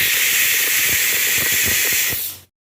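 A pressure cooker loudly hisses steam while cooking salna, a steady broadband rush with faint rattling beneath that runs for over two seconds, then cuts off abruptly into silence.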